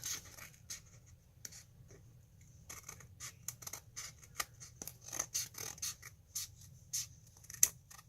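Scissors snipping through paper or card for a Halloween candy craft, a run of quiet, close, irregular clicks and cuts, no talking over them.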